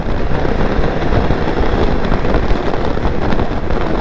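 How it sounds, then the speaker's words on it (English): Strong wind buffets the microphone outdoors on a wet Australian day, a loud, steady roar of gusting air with rain likely mixed in, unbroken from start to finish. "Windy,"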